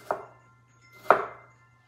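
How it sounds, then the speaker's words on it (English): A knife cuts through firm organic tomatoes on a board for a panzanella salad, two crisp chops about a second apart, close and fairly quiet, with no one speaking. "So I've got some nice firm tomato slices."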